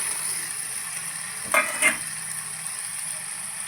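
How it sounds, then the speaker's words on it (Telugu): Pre-cooked chicken goes into a pan with gongura leaves for a curry, with a steady soft sizzle and two brief louder clatters of stirring midway, no voices. "ఇప్పుడు చికెన్ వేస్తాం ఇప్పుడు మనం ముందుగా ఉడికించుకున్న చికెన్ వేసేసి"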